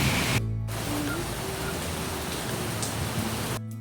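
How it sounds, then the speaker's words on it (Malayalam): Continuous heavy monsoon rainfall hisses steadily, with a faint low hum beneath it and short cuts to silence at the start and end. "ഭയങ്കര മഴയാണ്."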